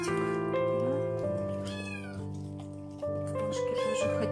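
A cat meows several times nearby, drawn-out plaintive calls rising and falling, with a steady tonal background underneath.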